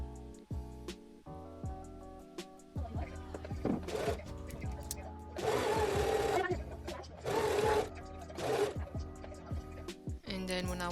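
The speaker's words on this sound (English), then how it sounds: "And then I carefully sewed all around." A sewing machine stitches around the lining of a sequin top, running in short bursts and a few longer sustained runs, close and fairly loud, with pauses between.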